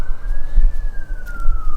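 A distant ambulance or fire truck siren holds a long sustained wail that rises slightly and then falls away over a low outdoor rumble, with no talking.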